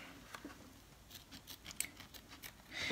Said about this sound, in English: We're going to go ahead and use applique scissors. They look like this, to cut as close as we can to these stitches and get the excess off.